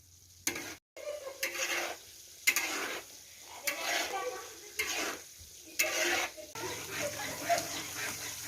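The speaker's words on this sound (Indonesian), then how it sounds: "Ini diaduk-aduk terus sampai muncul minyaknya dan lelaknya berubah warna agak kecoklatan." Grated coconut cooks in a pan for virgin coconut oil while a utensil stirs it in repeated scraping strokes with short pauses between, close and moderately quiet over a faint sizzle.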